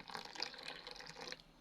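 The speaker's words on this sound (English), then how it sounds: "I'm mixing it with warm water, not too boiled water, not lukewarm, just moderately hot water." Moderately hot water pours steadily into bambara nut flour for mixing, a close, continuous splashing trickle that lasts about a second and a half before stopping.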